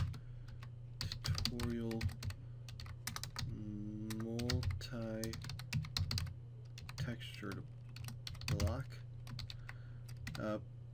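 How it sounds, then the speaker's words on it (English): Loud computer keyboard typing clatters in quick bursts of keystrokes behind someone talking steadily over a poor microphone, with a constant low hum underneath. "I'd like to apologize for my microphone and loud keyboard."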